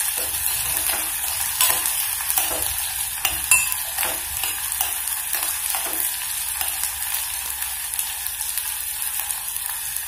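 Onions sauté in a pan with a bright, steady hiss of sizzling oil that runs the whole way through. Occasional spoon scrapes stir them, close up and loud, with no talking.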